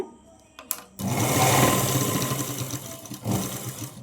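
A sewing machine stitches a Punjabi dress in one steady, loud run of needle chatter lasting about two seconds. A few short clicks come just before the run starts, and the run trails off at the end.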